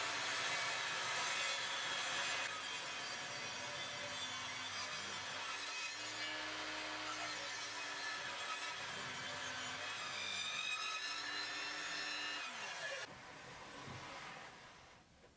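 Wooden rocker legs clamped to a sled and cut on a saw at a 6-degree angle, making a steady loud whirring saw hum through the wood that winds down at the end.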